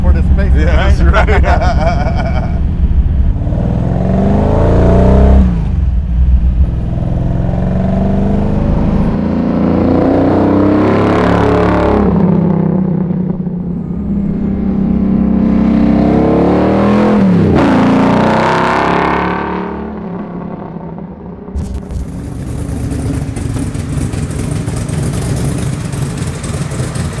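A 1958 Corvette C1 with a 572 big-block V8 revving up in repeated swelling bursts, deep and loud up close, with people talking over and between the revs.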